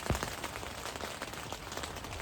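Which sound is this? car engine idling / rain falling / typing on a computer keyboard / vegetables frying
rain falling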